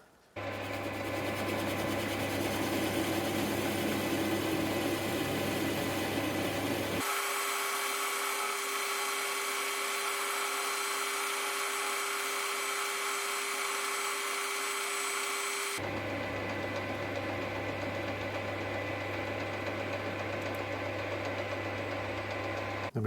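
A lathe runs steadily while a nut is parted off, with a continuous machine hum and a sustained high cutting whine that shifts tone midway, loud and close with no pauses.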